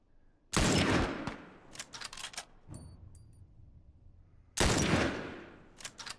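Two loud, close sniper rifle blasts from the Lapua in The Last of Us, each a sharp crack with a long rumbling tail, separated by a few seconds of quieter scattered clatter and faint game effects.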